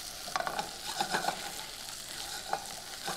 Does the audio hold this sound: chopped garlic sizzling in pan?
yes